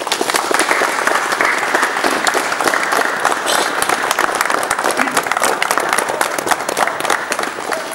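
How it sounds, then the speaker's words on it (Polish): Loud, dense applause bursts from the crowd at a Firefighters' Day ceremony in Gmina Tuszów Narodowy, Poland, in 2018, with many hands clapping steadily and close, without a break. "Gromkie brawa."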